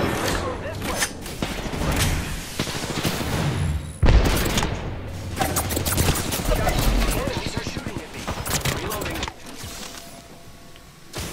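Apex Legends gunfight in ranked play, with close, rapid bursts of automatic weapon fire, sharp single shots and a heavy boom, plus mechanical clicks, all busy and loud throughout.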